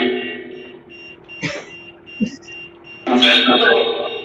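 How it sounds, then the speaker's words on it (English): An electronic device gives a steady, tonal beeping alarm that runs throughout, with bursts of noise and voices breaking in near the end. "Can you stop this from beeping?"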